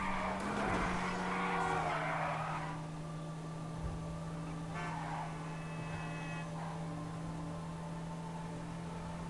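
Racing cars in a PS4 game, an engine drone with tire skid and squeal early on, then a steadier engine hum and fainter passing car noise, moderately quiet.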